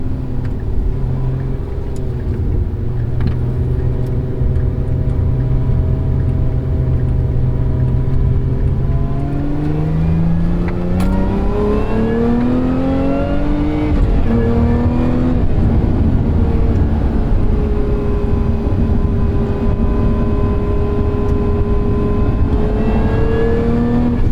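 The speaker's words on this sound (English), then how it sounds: "Buttery smooth double clutch downshift." A 2023 Lotus Emira sports car engine is heard from inside the cabin, loud and continuous. The revs rise and fall through a double-clutch downshift, with a rising blip and smooth gear changes and no talk.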